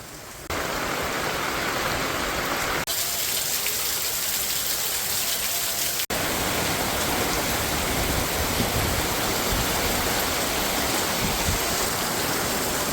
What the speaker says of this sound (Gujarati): તો વરસાદ એ શરૂ છે